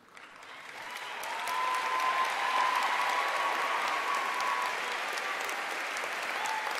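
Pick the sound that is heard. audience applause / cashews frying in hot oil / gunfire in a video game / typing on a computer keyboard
audience applause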